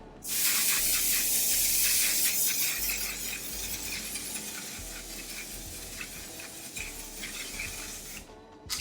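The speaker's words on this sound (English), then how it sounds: "And we're going to spray." A continuous aerosol makeup setting spray hisses close by for several seconds, fading slightly toward the end before stopping.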